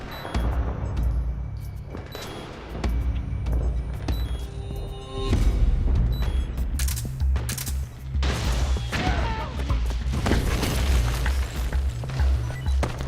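Gunfire and booming blasts from Metal Gear Solid 4: Guns of the Patriots ring out in bursts over a rumbling low background, with sharp crashes and shots peaking in the middle and later stretches, no talk over them.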